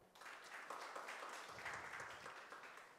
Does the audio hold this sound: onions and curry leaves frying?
no